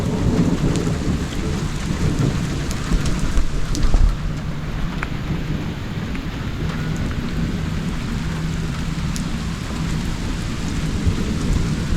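Steady heavy rain pours down with a low rumble of thunder rolling through, continuous and enveloping with no voices.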